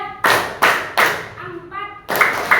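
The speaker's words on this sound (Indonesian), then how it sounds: "supaya kita semangat dulu, tepuk 1, 2, 3" A classroom of children clapping in unison, several loud broadband bursts of rhythmic group claps close by, with chanted counting voices between the claps.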